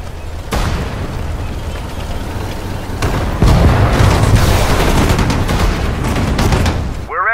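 Loud gunfire and booming explosions from a Sudden Strike 4 skirmish between Allied infantry and a tank, with sharp shots and heavy blasts overlapping densely and a brief voice-like sound at the very end.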